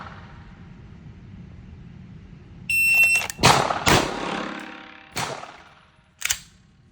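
Sig M17 pistol shots at a firing range, a shot timer beep followed by four sharp, loud close reports spaced irregularly about a second apart.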